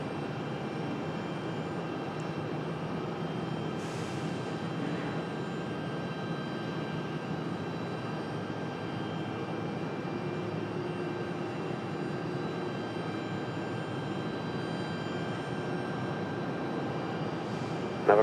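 A United airliner moves on the ground at Raleigh-Durham International Airport, a steady, moderately distant engine drone holding even for the whole stretch with no voices.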